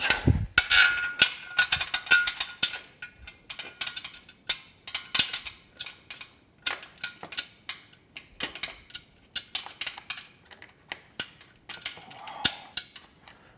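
A ratchet socket wrench tightens bolts on a Body Solid EXM3000 gym machine during assembly, with rapid clicking bursts and scattered metallic clanks, close and alone.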